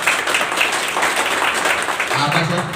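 Audience applauding at a network marketing plan meeting, a dense wash of clapping from a crowd under a talking voice, steady for a few seconds.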